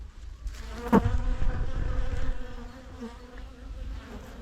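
A swarm of honeybees hums and buzzes continuously at close range as it is moved into a hive, with a brief louder bump near the start and the drone easing slightly toward the end.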